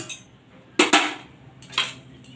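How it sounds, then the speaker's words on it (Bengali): A metal lid is lifted off a pan of eggs steaming on a stand, producing two or three sharp, close clanks and scrapes of metal on metal, separated by quiet pauses with a faint low background hum. "আমি এবার ঢাকাটা খুলে দেখে নিচ্ছি।"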